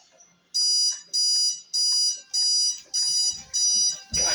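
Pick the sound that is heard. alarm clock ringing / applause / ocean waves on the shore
alarm clock ringing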